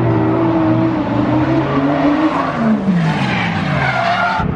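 A drift car skids loudly and continuously at a Japanese motorsport event, its tires squealing over the roaring, shifting engine note, close and steady throughout.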